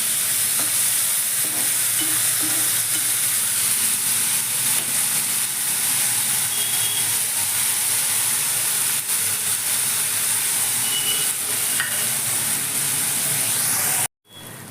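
Tomatoes with salt cooking under a lid in a pan with browned onion for paneer bhurji, a loud, constant hissing sizzle that holds evenly and then cuts off abruptly near the end.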